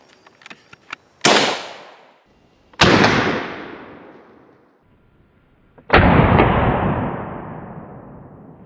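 Three loud, sharp rifle shots from an M1 Garand firing 30-06 M2 armor-piercing rounds at an AR500 steel plate outdoors, each a sudden crack with a long rolling echo, preceded by a few light clicks.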